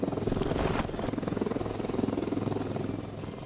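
An Indian-built Prachand light combat helicopter flies close and loud, its rotor making a steady rapid chopping thump under a continuous turbine whine.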